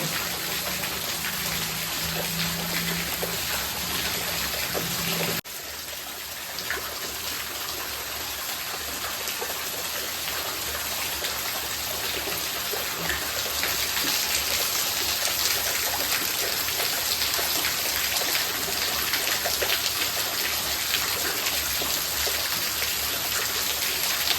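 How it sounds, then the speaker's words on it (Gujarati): Continuous broadband hiss of heavy rain pouring down outdoors in a village, dense and unbroken throughout, with a brief shift in tone near the start. "એને ફૂલ એટલે ફૂલ વરસાદ ચાલુ થઈ ગયો"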